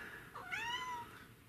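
A single rising-then-falling meow from a cat, fairly faint and heard alone against a quiet indoor background.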